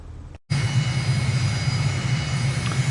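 Simulated aircraft engine in Microsoft Flight Simulator spools up at the runway start in Mauritius, a broad steady roar with a low hum that rises suddenly after a short silence and holds loud and even.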